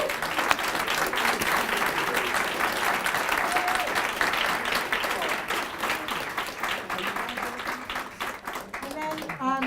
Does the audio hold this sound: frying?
no